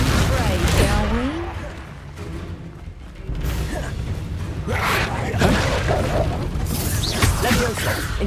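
Spell blasts and crashing magical impacts from Hogwarts Legacy combat burst repeatedly amid rumbling, clattering effects, with a voice speaking over parts of the fight.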